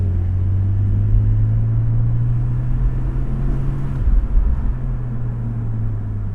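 A 2021 Porsche 718 Spyder with PDK dual-clutch transmission drives on quiet back roads, its engine a loud, steady low drone heard from inside, dipping briefly as if shifting before settling again.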